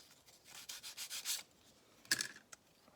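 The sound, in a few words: deburring a cut edge with a simple hand file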